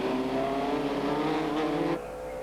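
TVR Tuscan Challenge race cars running three abreast down the straight at a 1995 circuit event: a loud, continuous engine roar that drops slightly in intensity near the end.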